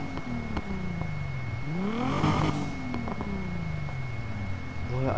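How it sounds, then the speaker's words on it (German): A V8 car engine revs up and down repeatedly, pitch rising and falling over steady background noise, with one louder surge midway. "Ich glaube, das ist ein V8 Motor."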